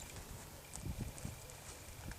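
A horse on soft ground takes short, choppy steps while turning, producing a few faint, dull hoof thuds close by. The clip has no talk.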